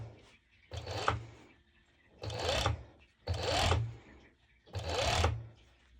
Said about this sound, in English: I'll be starting from this with my serger